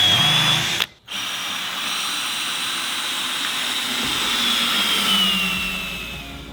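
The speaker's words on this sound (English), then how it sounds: "But look how easy this drills into in comparison." A power drill bores into reused hardwood timber during an off-grid roof build, running steadily and close up, with a brief break near the start before the continuous whirring resumes.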